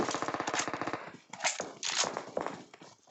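AKM assault rifle fire in PUBG Mobile: a rapid automatic burst of sharp cracks, followed by a few scattered single shots and shuffling movement, close and punchy.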